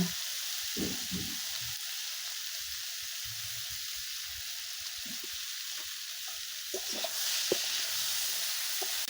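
Steady sizzling from pumpkin frying in a pan, with occasional stirring and scraping sounds, close and continuous.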